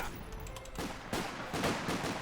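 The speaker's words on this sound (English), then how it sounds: "Sniper will get a free shot in." Rifle fire in a Company of Heroes 2 battle, a sniper shot among several sharp cracks and a scattered fusillade, moderately loud against a low battlefield rumble.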